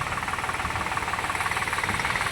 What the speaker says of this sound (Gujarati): અત્યારે પણ ટ્રેક્ટર ચાલુ જ છે